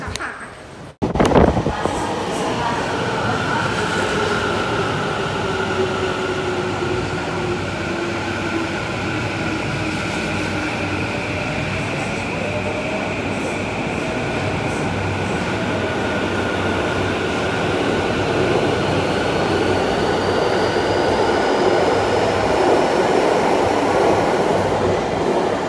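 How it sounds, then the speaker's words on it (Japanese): A Tokyo Metro Chiyoda Line subway train rumbles along steadily, loud and close from inside the car, with a rising whine of the motors and faint squealing of the wheels. A sharp burst at the start gives way to a constant roar. "到着です。 これから千代田線に乗ります。"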